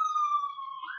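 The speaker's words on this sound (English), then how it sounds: "We have our obligatory siren go past" An emergency vehicle siren passes outside, a clear steady wailing tone heard alone for about a second, fairly faint and distant, its pitch bending slightly as it moves.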